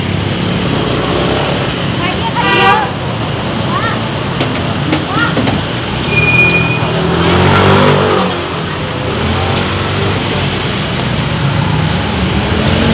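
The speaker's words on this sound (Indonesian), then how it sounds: "Hati-hati. Ada motor." A motorbike engine hums and revs as it passes through a busy street in a large wholesale market, heard amid crowd noise with people talking nearby.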